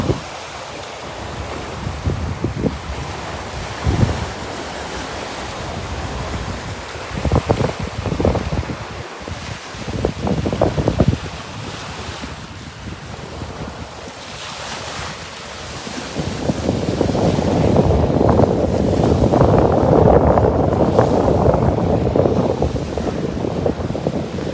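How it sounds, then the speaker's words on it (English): On a windy morning, gusting wind buffets the microphone in loud rumbling bursts, building to a sustained roar in the second half, with no talk. "So it's a windy morning."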